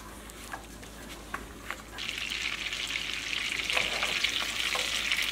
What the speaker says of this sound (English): You just want to melt your butter.